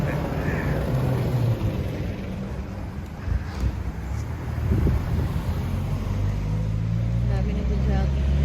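A car passes along a cool mountain road near a strawberry farm in Baguio, its engine rumbling low and steady beneath heavy wind buffeting the microphone, a little louder midway.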